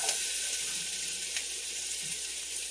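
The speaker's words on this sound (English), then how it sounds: "So I am going to go ahead and throw my potatoes in." Steady broadband sizzle as cut potatoes go into a pan of browning carrots for chicken stew, a continuous close hiss with faint small ticks and no talk.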